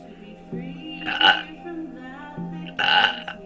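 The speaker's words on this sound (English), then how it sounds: "I do burp when I release and heal" Two burps from a person during a guided healing session, each a low, throaty eructation, the second longer and louder, separated by a pause with a quiet voiced hum beneath.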